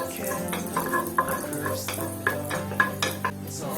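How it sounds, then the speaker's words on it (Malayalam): Sliced garlic sautéing in oil in a pan, a constant sizzle under repeated spatula scrapes and knocks against the pan in an irregular stirring rhythm, close and fairly loud. "ഇനി ഇതിലേക്ക് ഒരു വെളുത്തുള്ളി ഇതുപോലെ സ്ലൈസ് ചെയ്തായിരുന്നത് ഇട്ട് കൊടുത്തിട്ട് ഒന്ന് ചെറുതായിട്ടൊന്ന് വഴറ്റിയെടുക്കാം."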